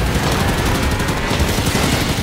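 Rapid turret gunfire in Halo 5: Guardians, a dense, continuous loud burst of shots with no pauses, filling the whole moment.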